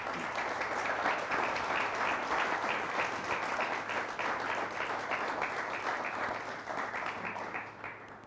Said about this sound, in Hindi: लिए जोरदार तालियां बजाइए।